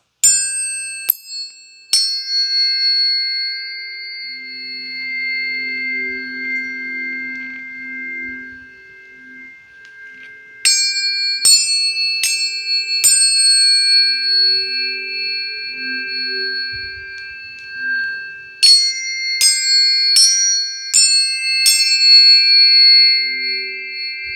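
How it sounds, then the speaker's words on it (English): Three tuning forks are struck in quick clusters, each leaving clear, pure tones that ring and sustain for long stretches, with soft faint rustling between strikes. "And so now you have 3 tuning forks in here"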